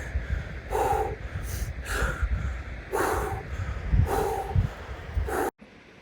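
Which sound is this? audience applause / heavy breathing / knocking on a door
heavy breathing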